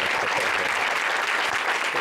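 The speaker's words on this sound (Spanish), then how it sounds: "Vale, un aplauso, por favor," A live audience at a show in Madrid breaks into dense, sustained applause, a steady wash of many hands clapping at close range with no voices standing out.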